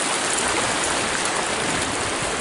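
A river rushes steadily beside a canyon campsite, a dense, loud, continuous wash of flowing water filling the whole moment with no voices.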